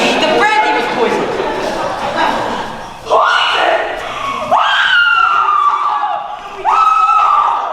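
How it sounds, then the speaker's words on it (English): A woman screams from another room of a mansion, with three long, loud shrieks rising and falling in pitch a second or two apart, mixed with agitated voices. "The screams are coming from the billiard room."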